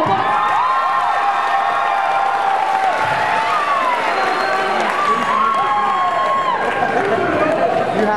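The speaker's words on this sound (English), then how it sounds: "So let's give her a round of applause." A school homecoming assembly audience roars with loud cheering, whoops and applause, a dense sustained wall of crowd noise with rising shouted voices throughout.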